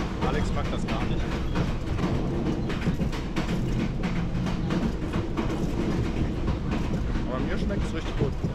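A passenger train in Vietnam rolling along, the carriage rattling steadily on the rails with a continuous loud rumble and rhythmic clicks; voices talk over the noise.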